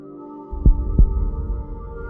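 Two deep, heavy heartbeat thumps land close and loud, then a low throbbing hum continues beneath, with no voices.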